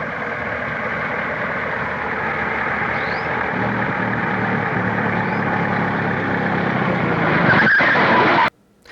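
A car roars along at close range with a loud, sustained engine and tyre noise that swells into a skid before cutting off abruptly, a radio drama sound effect with no voices.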